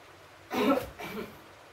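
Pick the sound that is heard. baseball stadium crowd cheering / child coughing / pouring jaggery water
child coughing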